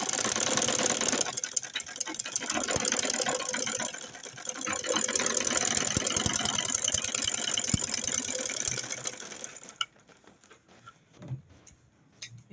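A sewing machine top stitches fabric for a bucket-shaped handbag, running in a loud, steady mechanical whir for most of the stretch with one brief pause, then falling quiet near the end.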